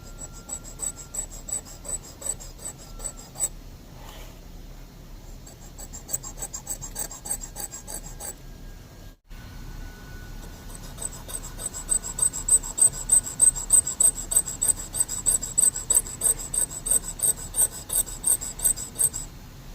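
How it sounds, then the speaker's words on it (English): A dental enamel hatchet being sharpened on a sharpening stone gives rhythmic close rasping strokes, irregular at first, then after a short pause a faster, louder, steady series of filing scrapes. "So I bevel, holding the sharpening stone,"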